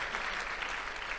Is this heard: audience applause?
yes